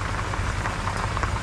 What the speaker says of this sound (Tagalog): Ayan na umambon.